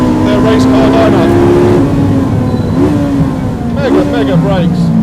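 A Ferrari 458 Challenge Evoluzione race car accelerates hard on a track in fifth gear, a loud, high-pitched engine wail that climbs in pitch and shifts, with the driver talking over it.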